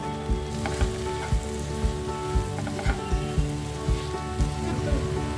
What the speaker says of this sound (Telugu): ఇప్పుడు మనం ముందుగా రెడీ చేసి పెట్టుకున్న మరమరాలని ఇందులో వేసుకొని బాగా ఫ్రై చేసుకోవాలి.